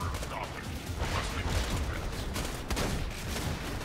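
A grenade thrown and going off in Borderlands 2 amid dense game combat noise, with mechanical clatter and gunfire-like bursts throughout and a sharper crack near the middle.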